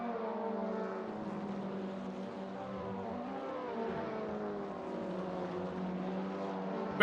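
A race car engine in a simracing game of the TCR Europe series at Spa-Francorchamps drones steadily under throttle, its harmonic pitch wavering as the car shifts gears and pulls on, with no talk over it.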